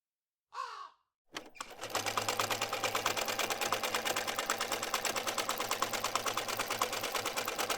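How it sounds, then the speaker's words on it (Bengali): An animated scene has a short crow-like caw and a couple of clicks, then a sewing machine stitching cloth starts up and runs steadily, a fast, even mechanical rattle close by and continuing alone. "কাপড় সেলাই করছি"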